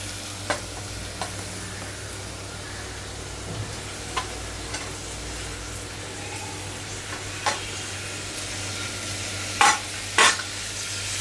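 Browned onions fry in a pan as tomato goes in for a South Indian sprout curry, a low steady sizzle over an electrical hum, punctuated by scattered spoon taps and a couple of louder clanks near the end, without speech.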